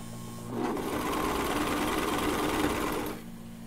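A coverstitch sewing machine runs steadily for about three seconds while stitching a leotard shoulder seam. It gives a close, loud, even mechanical whir that starts and stops cleanly against a quiet room, with no voices.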